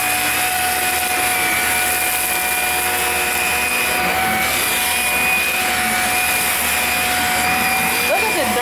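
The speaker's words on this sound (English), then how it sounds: "Okay, stop vacuum. Move the vacuum. Move it. Turn it off." A Shark Rocket Professional vacuum cleaner runs loud and close with a steady whining drone and high tonal hum throughout, unbroken and without pauses.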